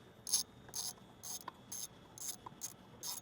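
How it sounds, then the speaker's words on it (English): A ratchet with a 5/16 socket takes off a bracket on the manifold of an L Powerstroke diesel, giving quick, evenly spaced bursts of crisp clicking, close and fairly quiet, about seven strokes in a row. "Now with the 5/16, we're going to remove the bracket"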